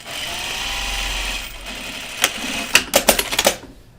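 A serger stitching kids' pajama fabric runs with a steady hum, then stops, followed by a quick series of sharp clicks and taps as the fabric and machine are adjusted; no talk.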